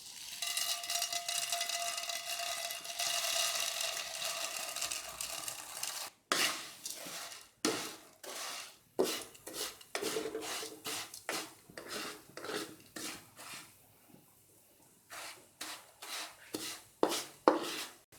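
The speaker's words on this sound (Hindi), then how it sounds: "दरमियानी आंच रखते हुए सेवइयों को ऑयल के अंदर मैंने 2 मिनट के लिए फ्राई कर लिया।" Vermicelli fries in cooking oil in a pot over medium heat, first as a continuous hissing sizzle, then broken into a run of short, rhythmic scraping strokes as it is stirred, close and fairly loud.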